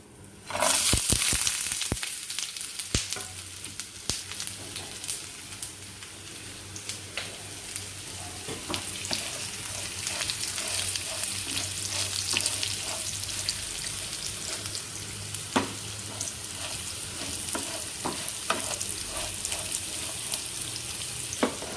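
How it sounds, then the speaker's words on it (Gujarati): Fried cashews and bitter gourd go into a hot-oil tempering of mustard seeds, cumin and asafoetida. A loud sizzling burst and clatter at the start settles into a steady, close crackling fry with occasional stirring scrapes. "પછી આપણા ફ્રાય કરેલા કાજુ અને કરેલા નાખવાના"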